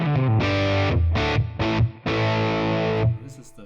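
Distorted electric guitar played through a ToneX model of a Gibson G40 amp with its stock cabinet IR and a touch of reverb, loud sustained chords in four strummed bursts, the last held long before fading.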